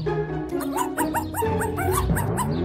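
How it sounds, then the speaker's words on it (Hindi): A dog barks and yips in a rapid series of short, loud, high calls, with whimpering tones in between, close by and without talk. "बेवकूफ कुत्ता।"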